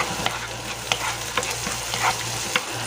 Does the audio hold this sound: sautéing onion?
yes